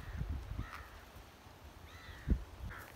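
Crows caw on a grassy hill in Goa, India: a few scattered harsh calls, some near and some farther off, over quiet outdoor ambience and footsteps, with no talking.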